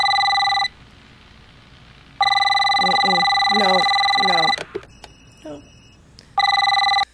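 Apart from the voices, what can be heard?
telephone ringing in the movie Constantine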